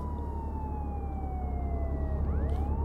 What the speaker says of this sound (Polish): Tylko wyłącz syrenę.